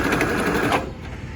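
A sewing machine stitches a quilted tote in a quick, close, continuous whirr that stops abruptly partway through the brief moment.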